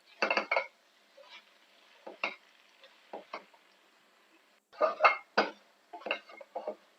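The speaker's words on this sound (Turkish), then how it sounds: "Şöyle birkaç dakika bütün malzemeyle kara lahanamı da kavuruyorum." Black cabbage stir-fried with other ingredients in a pot, mostly clanks and scrapes of a utensil against the pot in irregular bursts, close, separated by near-silent pauses, with only faint frying underneath.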